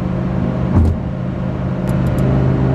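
Lamborghini Huracan Performante with a Kline exhaust cruising at highway speed in Strada mode, a loud steady engine and road drone that stays even and subdued throughout.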